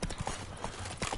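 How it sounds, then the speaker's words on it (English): Horse hooves in the video game The Witcher 3 clip-clop in a quick, even trot, several crisp hoof strikes close up over a soft, continuous game ambience. "I can't control the horse at the best of times"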